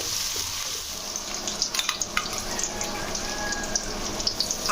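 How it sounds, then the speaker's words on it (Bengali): A generous batch of onions fries in oil in a pan, being browned for a chicken kosha. It gives a steady, close sizzling hiss with a few sharper crackles and stirring ticks, and no voice is heard. "একটু বেশি পরিমাণ পেঁয়াজ দিলাম, পেঁয়াজগুলোকে লাল করে ভাজবো"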